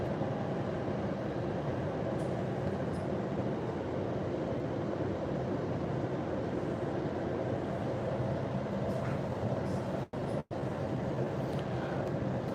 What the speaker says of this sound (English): See, when the train is going this slow